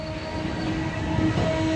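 The Saraighat Express rolls into New Cooch Behar Junction and slows toward a stop, a loud close rumble of carriages with a steady low hum and a brief faint tonal squeal near the end.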